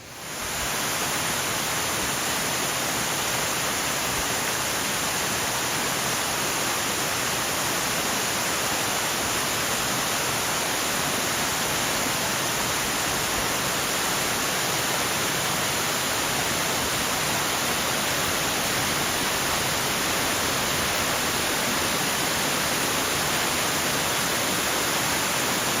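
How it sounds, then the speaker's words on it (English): Waterfall at Falls Creek in Mount Rainier National Park, heard close as a loud, steady broadband roar of falling water that holds unchanged for the whole stretch, with no voices over it. "We're at Falls Creek, and the waterfall here is fantastic."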